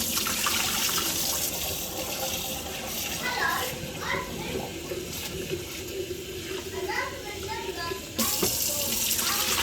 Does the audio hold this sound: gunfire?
no